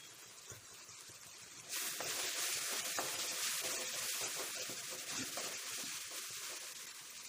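Onions, tomatoes, turmeric and salt frying in a pan with chilli powder added, a steady close sizzle that jumps louder partway through and holds, with no talk.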